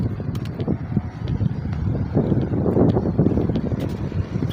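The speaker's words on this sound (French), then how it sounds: "il y a du bon vent ici" Strong wind buffets the microphone in a steady broadband roar beside the Y4 bypass road in Abidjan, with no talk and faint background rumble.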